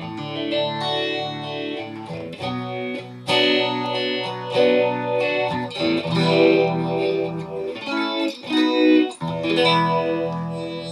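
Electric guitar through a clean amp with little compression, ringing chords and melodic lines with light shimmer, played alone at moderate volume.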